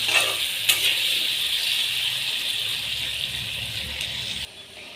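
Potato pieces frying in a pan, a steady bright sizzle close up throughout, with a light clink near the start and the frying dropping off abruptly just before the end; no talk.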